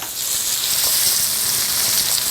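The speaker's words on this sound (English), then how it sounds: "So our veal is cooking away." Veal dredged in flour fries in a hot pan, giving off a loud, continuous sizzle and steady crackle with no pauses.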